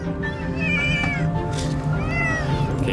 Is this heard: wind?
no